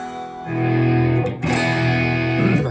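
An electric guitar with the neck pickup selected rings out through distortion, a sustained chord that cuts off briefly and is struck again, loud and held with no talk.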